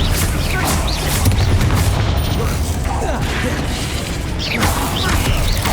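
Confringo blasting spells explode in the video game Hogwarts Legacy during a magical duel, a loud, dense wash of booming blasts and crashing debris with whooshing sweeps, sustained throughout and close.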